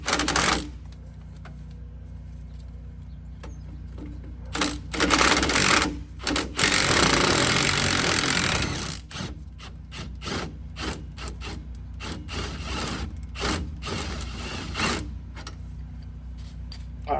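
Ratchet and 15 mm socket loosening a lower front strut bolt on a 2014-2018 GMC Sierra 1500 Denali with magnetic ride, heard as a run of rapid clicking ratchet strokes and metallic rubbing, with pauses between bursts.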